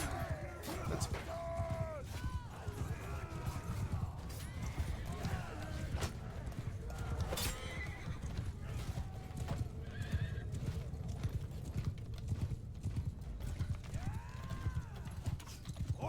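Many horses gallop in a steady clattering rush of hooves in the video game Bannerlord, with repeated whinnies rising above and shouted cavalry commands mixed in.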